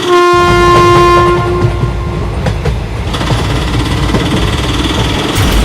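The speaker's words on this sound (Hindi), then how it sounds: "सामने से तो एक ट्रेन नहीं बल्कि एक ट्रेन का इंजन आ रहा है।" A cartoon train engine approaches with a loud, sustained horn blast at the start, followed by rumbling wheels and clanking that grow louder and denser, no voices.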